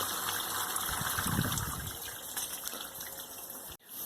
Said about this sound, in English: Get a bit of sparge water in there.